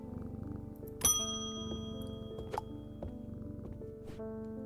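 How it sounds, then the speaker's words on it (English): A cat in the video game Strange Antiquities purrs softly and steadily while being petted, under gentle chiming bell tones and a quiet game soundscape, with no talking. "Keep petting the cat."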